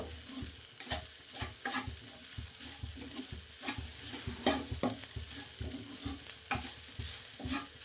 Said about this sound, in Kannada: ಇದು ಸ್ವಲ್ಪ ಹಸಿ ವಾಸನೆ ಹೋಗೋ ತನಕ ಫ್ರೈ ಮಾಡ್ಕೋಬೇಕು